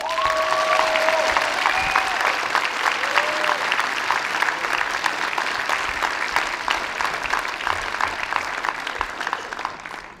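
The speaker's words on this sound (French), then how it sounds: "Je vous demande d'applaudir Monsieur Michael Hogan." Big crowd applause at a convention opening ceremony, a loud, dense, continuous roar of clapping with a few whistles early on, holding steady before tapering off near the end.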